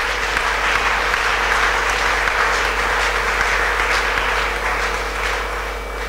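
A church congregation applauds in praise, dense sustained clapping filling the whole stretch, loud and steady with no talk over it.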